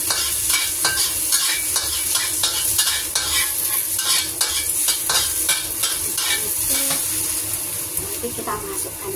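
Ginger fries in a little oil, giving a loud, steady close sizzle with rhythmic stirring scrapes of a utensil against the pan.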